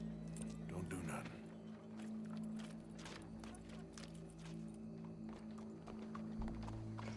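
Horse hooves clip-clopping in Red Dead Redemption 2, a quiet, steady, rhythmic walking clatter under a low hum and occasional talk.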